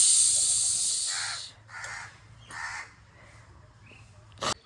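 A nearby crow caws three or four times in harsh separate bursts, over a faint background hiss and a sharp click at the end.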